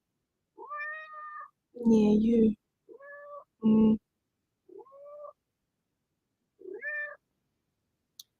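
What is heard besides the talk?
cat meowing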